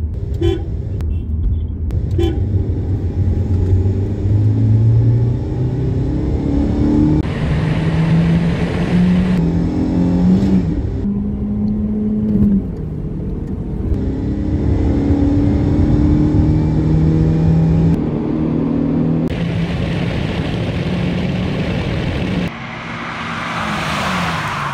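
Two cars, a Saipa Shahin and a Dena, accelerate hard in second gear in a rolling race. Loud engines rev and climb through stepped pitch changes, with a horn toot near the start.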